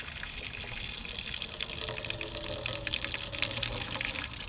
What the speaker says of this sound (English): We're gonna go ahead and get some water into our bucket here.